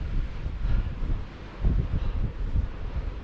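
Wind buffets the microphone on an open Dartmoor tor in gusty, rumbling bursts, with no other sound.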